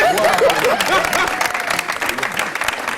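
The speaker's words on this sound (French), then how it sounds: "on va l'applaudir" A crowd claps in dense, steady applause on a French talk show, close and loud, with voices mixed in over the clapping.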